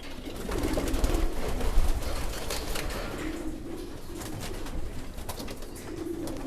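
Pigeons cooing steadily throughout a compartment of a breeding loft full of young birds, a dense, continuous chorus of overlapping low coos close by.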